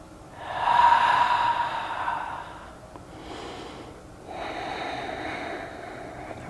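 Slow, deep yoga breaths, a long audible inhale and then a long exhale through the nose, close and steady with a pause between them.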